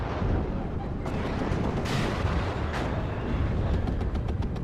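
MLRS rocket artillery launching in the WARNO strategy game, a continuous loud roaring barrage of rocket fire with sharp cracks and blasts layered over one another.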